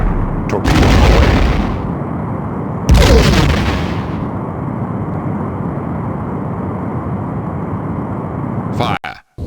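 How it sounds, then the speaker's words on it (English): Two photon torpedo launches, each a loud, sharp blast fading into a roaring rush, fire in the Star Trek: A Final Unity video game over a constant deep starship hum, followed by crackling impact noises near the end. "Direct hit. Torpedo away."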